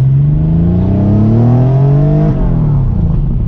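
A 1992 Porsche 911 3.3 Turbo, air-cooled, accelerating hard in first gear, a loud close engine note rising steadily in pitch for over two seconds before a brief dip and steady roar.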